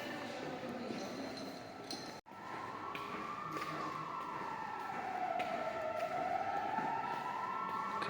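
A police siren wails in a Barcelona street, its pitch slowly rising and falling in long sweeps, moderately distant over a steady bed of traffic and city noise, with voices faintly in the background.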